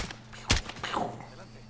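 Gunfire in Call of Duty: Modern Warfare: one sharp, loud shot is followed by a fainter second burst, with a player talking over the game sounds.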